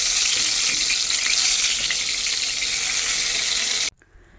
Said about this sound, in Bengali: কড়াইয়ে দিয়ে দিলাম তেল। প্রথমে বেগুন ভাজাগুলো করে নেব।